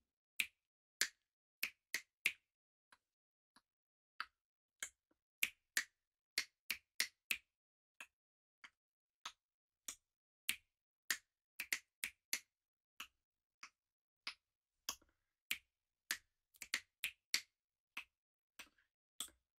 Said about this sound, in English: So please snap after me.